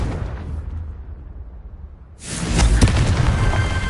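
A Confringo fire spell explodes in the video game Hogwarts Legacy: after a quiet, low rumbling stretch, a sudden loud burst erupts into a sustained, crackling roar that stays full and close to the end.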